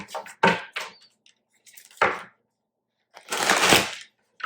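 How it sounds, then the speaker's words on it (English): A tarot card deck is shuffled in several short, crisp bursts of riffling and slapping cards, close by and separated by brief silences. "Do another shuffle."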